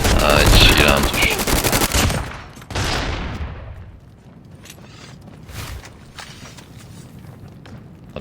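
Rapid automatic gunfire from a video game battle rattles loudly and close for about two seconds, followed by a single shot and then quieter footsteps and movement.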